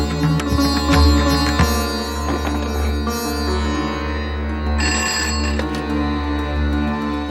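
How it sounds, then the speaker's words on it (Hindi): A telephone rings in a Hindi television drama scene, its bell sounding over a steady background of tones and music, with no speech. "किसका फोन है अभी?"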